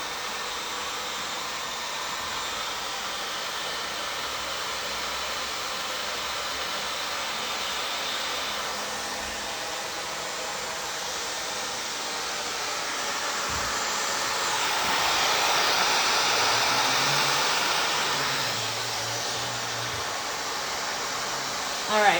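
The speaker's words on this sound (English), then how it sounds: "I'm just using the little teeth on the diffuser just to kind of press in" A hair dryer fitted with a diffuser runs steadily while drying and lifting the roots of long layered hair, a continuous close whoosh that swells louder midway, with some talking beneath it.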